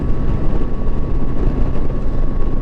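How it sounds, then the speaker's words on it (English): A 2007 Yamaha FJR motorcycle with a freshly installed replacement engine hums at a smooth, steady idle. The low drone holds constant and even throughout. "Boy, the engine's just purring."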